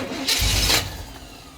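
A 1984 Chevy Silverado engine cranks in one brief, rough burst of about half a second, then the sound drops away, with no talk.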